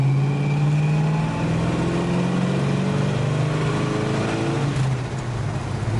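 The engine of a 1966 Plymouth Barracuda hums in a steady, smooth drone while driving, heard from inside with a constant road rumble and no talking.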